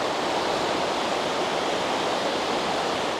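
Clear mountain stream water rushes at a campsite in South Tyrol, a loud, constant, close roar of broadband noise with no pauses and no voices.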